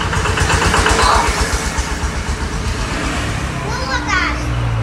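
A tractor engine runs with a steady low chugging pulse, fairly close and loud, while children's voices chatter over it throughout.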